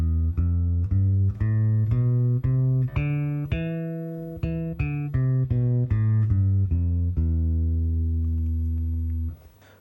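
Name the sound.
bass playing the E Phrygian mode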